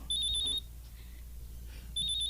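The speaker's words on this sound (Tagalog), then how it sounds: "nanawag man si Carla" A phone rings for an incoming call with a bright, rapid electronic trill in two bursts, one at the start and one at the end, separated by a short pause.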